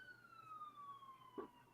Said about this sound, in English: Who the fuck's siren going off?